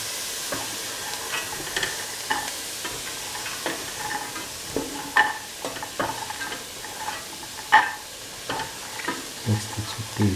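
Chickpeas get stirred into a rice mixture in a frying pan, with scraping spoon strokes and soft clicks over a gentle background sizzle, irregular and close, with no voices.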